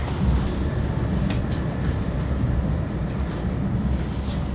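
Inside an Indonesian bullet train cruising at about 145 km/h, a steady broadband rumble and rushing roar fills the cabin continuously, with faint higher whooshes passing over the dense low drone.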